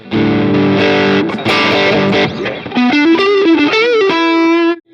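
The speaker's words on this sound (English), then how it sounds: "You want to put more distortion on it." A Stratocaster electric guitar played through heavy distortion, with loud sustained chords giving way to a bending, vibrato-laden single-note lead line, no talking.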